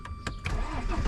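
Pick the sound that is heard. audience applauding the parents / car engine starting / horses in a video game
car engine starting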